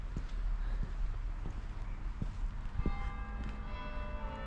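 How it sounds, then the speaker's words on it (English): Church bells ring in the distance near a cemetery in the Cotswolds, their sustained tones swelling in the second half over outdoor ambience and a few scattered footsteps. "Hear the bells going."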